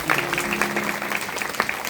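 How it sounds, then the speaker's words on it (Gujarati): An audience at a religious katha gathering claps steadily to welcome two families, a dense, even patter of many hands filling the room, with a faint voice underneath. "તો આપણે એ બેવ પરિવારને તાળીઓથી વધાવી લઈશું."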